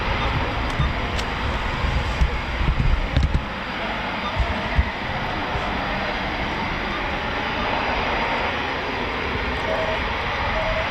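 An aircraft flies over the runway at an RAF airshow, its loud, steady engine roar filling the whole stretch with a few brief louder swells, while faint voices speak nearby.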